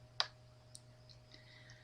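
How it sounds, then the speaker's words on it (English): A single crisp computer mouse click, followed by a couple of faint ticks as the mouse drags an item on screen, all quiet and close up. "I can move it by just clicking and dragging."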